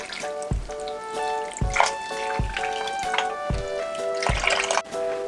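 Water drips and trickles into a pot of beef for a pressure cooker in a home kitchen, with soft splashes and intermittent bright metallic taps, close and moderately quiet.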